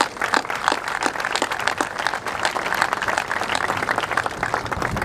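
An audience at a Navy change of command ceremony applauds the color guard, steady dense clapping from a sizable crowd that holds for several seconds.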